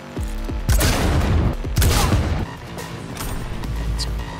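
Sniper rifle gunfire in the Cyberpunk 2077 video game: a few heavy, booming shots ring out close and loud, each followed by a rumbling echo.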